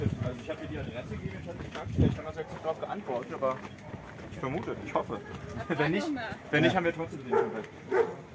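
A dog behind a door barks along a street in Siloé, sending a few scattered barks that sit under and between steady conversation, with outdoor neighborhood ambience around them.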